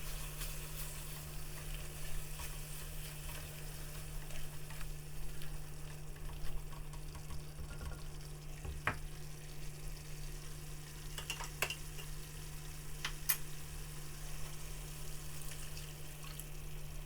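Mango chilli chicken sauce with mango, vinegar and base gravy sizzles steadily in a pan over a constant low hum, with a few soft scrapes of stirring and no talk.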